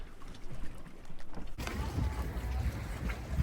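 Wind rushes and buffets around an R27 Ranger Tug at anchor on Lost Creek Reservoir, a steady roar that jumps suddenly louder and rougher partway through, close with gusty microphone rumble.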